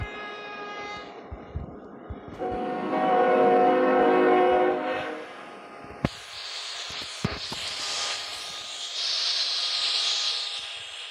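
Freight train rounding a dangerous curve, with steady horn-like tones at first, then a broad hissing, rushing roll of the cars that swells and fades, with a few sharp knocks along the way.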